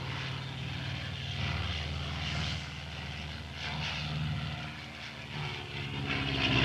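Propeller training aircraft of the Finnish Air Force at Kauhava gliding back toward the airfield in 1957, a steady droning engine hum with slowly swelling and fading intensity, heard alone at moderate distance.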